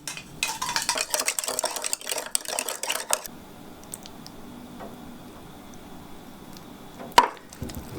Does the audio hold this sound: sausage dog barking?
no